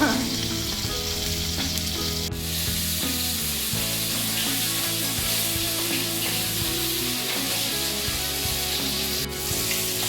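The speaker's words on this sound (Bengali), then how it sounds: "মাছগুলোকে মা কড়া করে ভাজা করে নিয়েছে, প্রায় ভাজা হয়ে এসেছে।" Taki fish fry in hot oil in a pan with a loud, continuous crackling sizzle that holds steady throughout, with faint stirring underneath and no voices.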